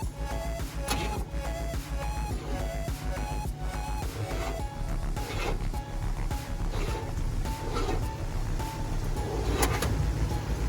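A Chevrolet squarebody truck engine cranking without catching: a continuous rhythmic starter whir with repeated chugging pulses, close and loud for the full length, never firing into a run.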